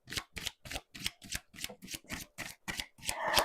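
Tarot cards shuffled by hand for a three-card reading, about ten crisp riffling bursts at a steady rhythm, close and alone, ending in a longer rustling flurry.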